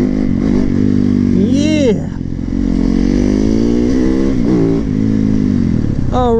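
Yamaha MT-09 or MT-10 motorcycle on a ride, engine droning loud and close with rising and falling revs as it accelerates and shifts, while a rider speaks briefly over it.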